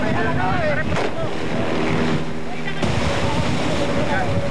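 A fishing boat (bangkang buli-buli) being chased at sea roars steadily with wind buffeting the microphone and water rushing, loud and continuous, with sudden gusts around the first and third seconds.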